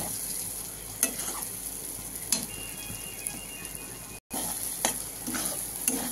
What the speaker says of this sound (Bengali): এইভাবে আমি এখন মশলাগুলো পুরো কষে নেব